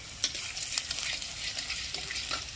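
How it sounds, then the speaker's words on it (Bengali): Garlic frying in hot oil in a pan, a close continuous sizzle with scattered sharp pops and stirring scrapes, no talk. "এবার আমি ওই তেলের মধ্যেই রসুন দিয়ে দিচ্ছি রসুনটা একটু ভালো করে ভেজে নিতে হবে"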